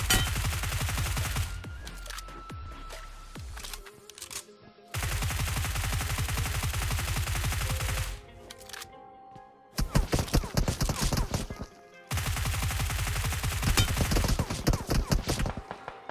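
Dense bursts of gunfire in the mobile battle royale game BGMI, with rapid automatic fire in loud sustained stretches, broken by short pauses and shifts between weapons.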